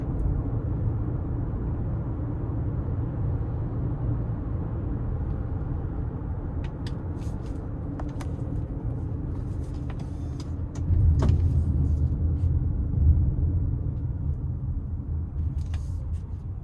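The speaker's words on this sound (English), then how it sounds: "I'm gonna floor it coming down the interstate since this one has some miles on it" A 2025 Toyota Highlander Hybrid XLE AWD with some miles on it, floored in sport mode on the interstate: a steady, loud cabin drone of engine and road rumble that swells noticeably partway through as the throttle opens, with no talking.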